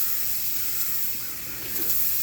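A Donkin steam steering engine gives off a continuous, steady hiss of escaping steam, soft and even throughout with no other sounds.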